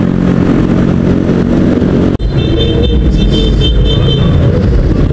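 A motorcycle rides through rush-hour traffic in Pasig, recorded on a GoPro Hero 3 Plus. Engine rumble and wind buffeting stay loud and close, with a brief dropout near the middle and a higher engine whine afterward.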